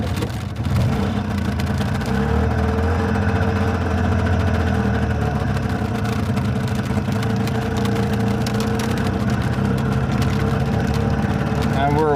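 A Messerschmitt KR200 Cabriolet microcar's small engine runs steadily and pulls away, a continuous buzzing drone that stays loud throughout with some faint rattling.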